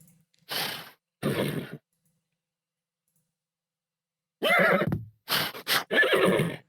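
A horse neighs in a video game's character creator, with two short whinnies followed after a pause of silence by a longer, louder run of several whinnies and snorts, all clear and close with no talk.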